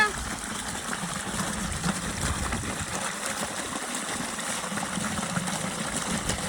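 Cold water gushes steadily from a farm pipe with a continuous rushing splash, close by, under a low engine hum.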